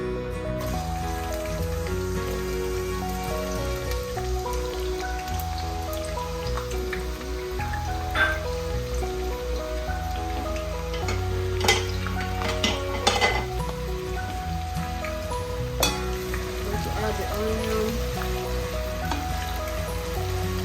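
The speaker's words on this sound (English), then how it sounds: "Let it fry a little." Onion frying in canola oil in a pot, a steady close sizzle with crackling pops running throughout, mixed with ongoing background music.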